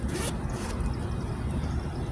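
A clothing-style zipper on a bag or pouch full of odds and ends is pulled open in a few quick, close rasping strokes, with no talking.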